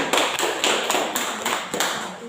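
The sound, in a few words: classroom applause for a student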